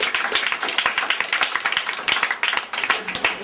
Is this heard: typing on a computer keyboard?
no